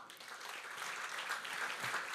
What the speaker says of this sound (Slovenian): En aplavz za tebe.